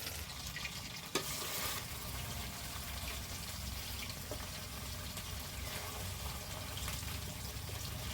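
Pabda fish frying in oil in a karahi gives off a steady, close sizzle, an even crackling hiss with a faint clink near the start and no speech.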